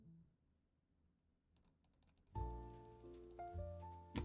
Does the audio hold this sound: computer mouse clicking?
yes